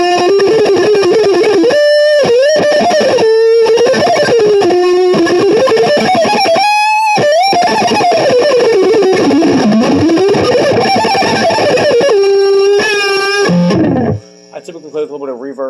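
Electric guitar on the neck pickup, tuned to D standard, with a warm, rounded tone plays bending, sliding melodic lines, with sustained notes and brief choppy strums, ending abruptly.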